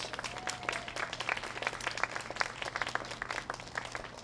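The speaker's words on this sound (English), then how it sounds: "So let's give them a big round of applause." An audience at a candlelight vigil and awards ceremony claps steadily, with dense, scattered handclaps of moderate loudness sustained throughout and no speech.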